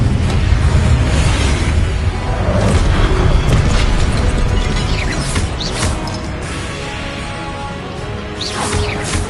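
Fire spell cast in the Hogwarts Legacy video game: a dense, loud rumbling blaze with booming crashes, sustained across the whole stretch with scattered sharp bursts and no talk.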